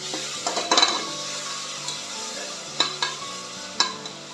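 Masala spice paste being sautéed in a pan for prawn rice, with a spoon scraping and stirring in bursts over a soft frying sizzle.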